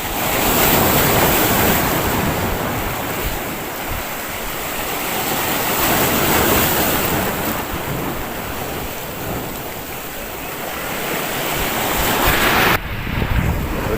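Strong waves roll in and crash at the Al Meena breakwater in Abu Dhabi during bad weather, a loud continuous roar of surf with gusts of wind that swells and eases in slow surges.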